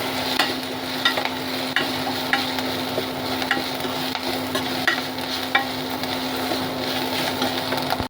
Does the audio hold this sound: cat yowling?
no